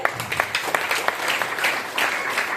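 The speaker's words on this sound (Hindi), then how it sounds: "एक बार ताली बजाइए" An audience at a seminar claps together, a steady patter of many hands at moderate volume, sustained without pause.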